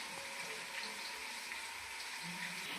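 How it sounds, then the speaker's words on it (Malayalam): Chopped onion frying in a pan for Kerala-style beef curry, a steady, close hiss and crackle of sizzling oil running evenly throughout with no talking. "ഈ സവാള അരിഞ്ഞത് ചേർക്കുകയാണ്."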